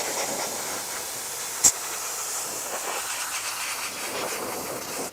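Compressed air duster spraying dust out from inside a PC, a steady close hiss of escaping air with one brief sharp burst near the start, no talk.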